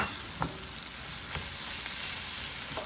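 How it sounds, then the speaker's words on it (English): Garlic sautéing in a pan before kale goes in: a soft, steady sizzle at moderate distance with a few brief stirring taps. "I'm gonna put some garlic now."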